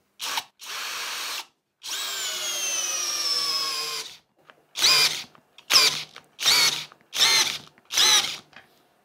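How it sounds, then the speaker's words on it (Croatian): A Parkside PBSPA 12 C3 12V cordless drill on first speed in drill mode drives an 8 mm screw: one short burst, a long strained whine, then five rhythmic pulses as the motor bogs, loud and close. "Evo ga, 8 mm šraf, prva brzina, režim bušenja. Da vidimo da li možemo da zavrnemo to."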